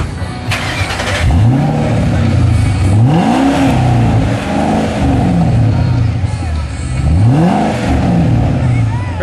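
A Shelby GT500 with JBA stainless mufflers revs hard and close, its exhaust rising and falling in several distinct throttle blips over a loud idle rumble.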